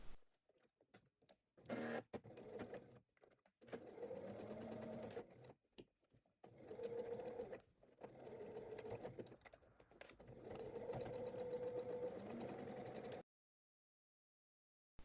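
A domestic sewing machine stitches a fabric bag seam in several runs, each a steady mechanical whirr of needle strokes separated by short pauses and clicks, close and fairly quiet, ending in silence.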